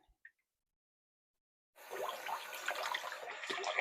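Water runs from a bathroom tap during a wet shave, starting abruptly after a near-silent pause with a couple of faint clicks and then flowing steadily and fairly close until the end.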